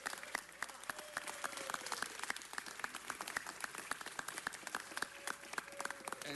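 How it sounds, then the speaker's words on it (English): Applause for volunteers at a city council meeting: steady, fairly faint clapping from a room of people, continuous for several seconds with no talk. "let's give a big round of applause to all the volunteers who give of their time to support Schools on Wheels"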